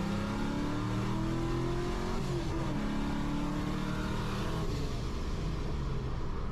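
A Coyote-swapped 1999-2004 Mustang cruises with a steady, throaty engine drone heard from inside the car, its pitch rising and settling gently as the car eases through the gears.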